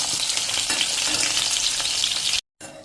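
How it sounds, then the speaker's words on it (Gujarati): Green chillies fry in hot oil for a chilli recipe, a steady close sizzle with faint stirring that cuts to silence briefly near the end before resuming. "હવે જો આપણા થોડા થોડા મરચાં કૂક થઈ ગયા છે અને હવે આપણે એને તેલમાંથી બહાર લઈ લેશું"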